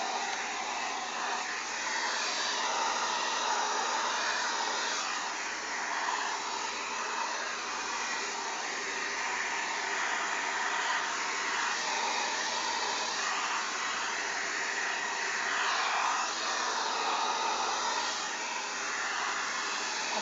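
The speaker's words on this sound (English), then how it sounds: "I like to scrunch while I diffuse." A hair dryer fitted with a diffuser blows in a steady, even roar while drying natural hair, constant for the whole stretch with no talking.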